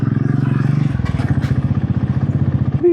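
A motorcycle ridden along a rough off-road forest trail, its engine chugging loud and close in a steady, throbbing beat with slight clattering from the bumpy ground, and no voices over it.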